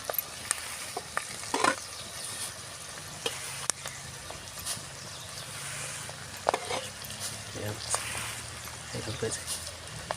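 Flattened rice (poha) sizzles and crackles as it is stirred in hot oil in a pan for atukula mixture, with close scraping stir sounds and a voice talking over the frying.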